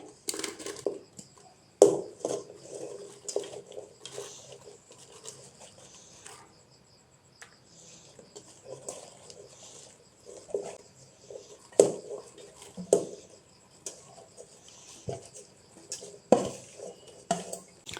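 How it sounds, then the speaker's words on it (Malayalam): Chopped jackfruit dropped and scooped into a pressure cooker, soft intermittent thuds and clinks of a spoon against metal, quiet and close with faint background hum. "ഒരു കുക്കറിലേക്ക് ഞാൻ ചക്കയെല്ലാം ഇട്ട് കൊടുക്കുവാണേ"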